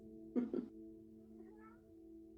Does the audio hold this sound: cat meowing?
yes